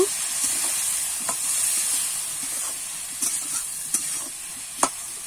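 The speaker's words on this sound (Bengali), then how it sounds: "এবারে কিন্তু আলু আর কলাটা একটু কষিয়ে নেব।" Potato and green banana are sautéed in a pan for a fish curry, giving a steady hissing sizzle with several sharp stirring scrapes and taps against the pan, close and with no voices.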